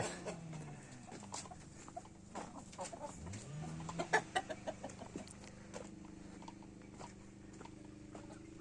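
Chickens and roosters clucking on a farm with sheep, in short, scattered bursts over a steady low background hum, with a few sharper calls standing out midway.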